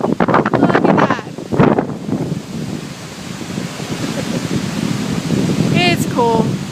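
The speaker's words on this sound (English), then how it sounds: "Getting a good gust going again." Strong, roaring wind gusts blow outdoors near pecan and poplar trees, buffeting the microphone in loud surging waves, with a brief high chirp or squeak near the end.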